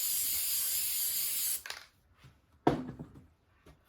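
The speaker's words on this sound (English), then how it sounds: "Now, you're going to take your tacky spray." Tacky adhesive spray hisses from an aerosol can onto a thrift-store bench in one steady burst lasting over a second, then stops; a second short, sharp puff of spray follows with faint handling noises.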